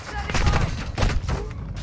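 Dense, continuous gunfire in Call of Duty MW2 with the VEL 46 class, a rapid fusillade of overlapping shots under a speaking voice.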